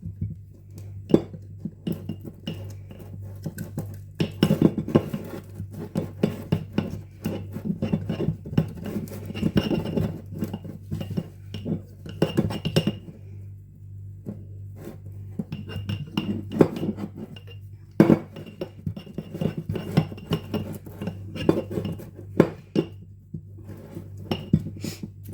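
A spoon clinks and scrapes against a container while mixing a five-month-old sourdough starter with flour and water, with irregular clattering strokes over a low steady hum and quieter pauses between bursts.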